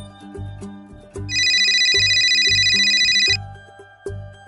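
A phone ringtone chimes loudly for about two seconds over a rhythmic music beat, then cuts off while the beat continues.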